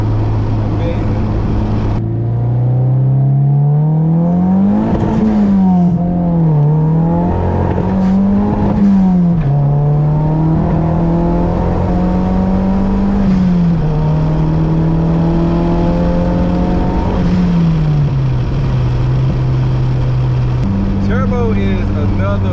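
A turbocharged Honda B20 engine car pulling hard through the gears, a loud droning engine note rising and dropping with each shift, heard from inside the cabin.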